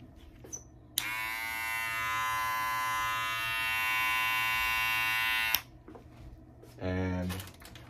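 A Senior electric hair clipper switched on for about four and a half seconds, giving a steady, close, high-pitched buzz that starts and stops abruptly, with brief handling noise and a voice around it.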